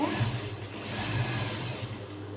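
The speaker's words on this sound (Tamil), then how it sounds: "மெதுவா தைக்கணும்." A sewing machine runs slowly while stitching a blouse, a close, continuous low motor hum with a soft rhythmic needle chatter throughout.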